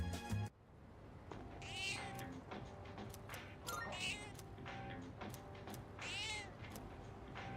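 A video game cat meows repeatedly, several distinct mews spread across the stretch, fairly close and clear over a steady background game hum.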